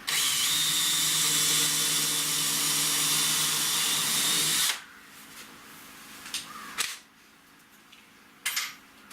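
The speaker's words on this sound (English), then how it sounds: "I can just go ahead and pre-drill this one" A power drill pre-drills a screw hole in a tiny house build, a loud steady whine running for almost five seconds before stopping, followed by a few scattered knocks and clunks.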